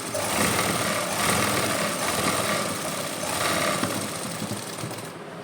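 A sewing machine runs steadily, stitching lace onto the flared hem and panels of a suit, a continuous close mechanical whir with no speech.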